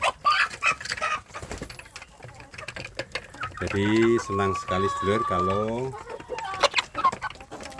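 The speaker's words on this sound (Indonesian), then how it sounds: "anak ayam kampung kita ini sudah besar seperti ini" Free-range village chickens cluck and call nearby while a person talks at morning feeding, with a louder burst of rooster-like crowing in the middle.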